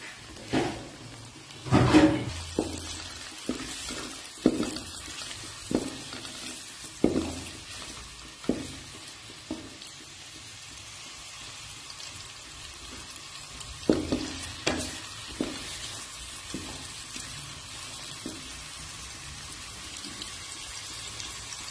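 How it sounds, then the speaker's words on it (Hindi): Onions frying until light golden for a tomato chicken karahi, a soft continuous sizzle broken by regular scraping stirs of a spoon every second or so, close and alone with no talk. "प्याज हल्के गोल्डन होने तक मैं पकाऊंगी।"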